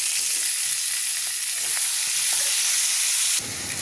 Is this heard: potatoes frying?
yes